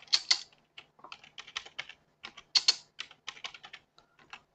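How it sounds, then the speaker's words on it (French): Quick bursts of typing on a computer keyboard, crisp close key clicks in uneven clusters with short pauses between them, with no talking. "Donc on tape n'importe quoi."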